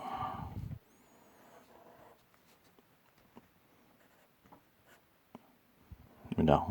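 Pen drawing lines of a comic character on paper, faint scattered scratchy strokes in a quiet room, with a person speaking briefly at the start and end.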